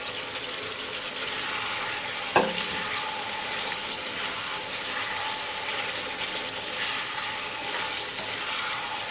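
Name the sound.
frying pointed gourd in spice masala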